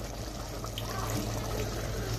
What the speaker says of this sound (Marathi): ग्रेव्ही वाढवण्यासाठी थोडं पाणी ऍड करूया